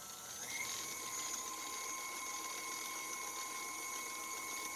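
An electric mixer whirs steadily through cheesecake brownie batter, a continuous high-pitched motor whine at close range with a brief pitch rise near the start and no talking.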